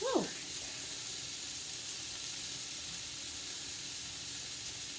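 Diced onion and peppers sizzle in a pan over medium heat, giving a steady, close, even hiss that carries on without a break. A faint voice is heard briefly at the start.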